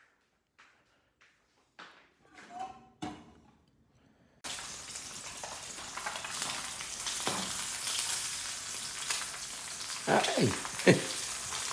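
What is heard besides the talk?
egg frying in a pan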